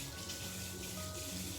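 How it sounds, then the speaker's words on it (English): Zucchini is rinsed under a running kitchen tap, a steady faint hiss of flowing water without pause. "I'm gonna also rinse off both of these real quick"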